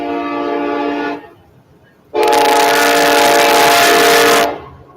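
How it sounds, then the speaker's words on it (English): Two loud train horn blasts, a shorter one then a longer, brighter one, sounding fairly close. "I do hear a train coming on."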